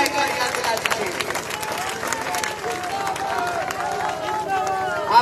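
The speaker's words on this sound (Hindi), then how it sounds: "एक बार ताली बजा के जरूर याद दिला दीजिए।" Applause from the audience at a Haryana political rally, a dense patter of clapping spread over the whole stretch with crowd noise mixed in, steady and fairly loud.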